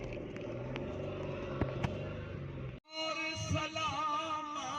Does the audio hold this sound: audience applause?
no